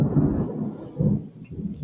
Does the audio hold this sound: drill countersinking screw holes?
no